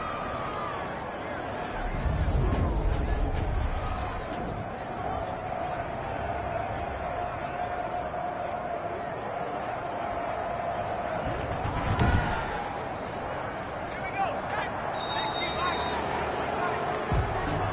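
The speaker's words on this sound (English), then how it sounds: "So this crowd will not go home happy." Stadium crowd noise in an American football video game on PS4, a steady, broad roar of many voices and murmuring throughout, swelling briefly near the start and again around the middle, with a few thuds and scattered sharper sounds over the hubbub.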